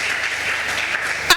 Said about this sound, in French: Manifeste d'abord ta présence par les acclamations.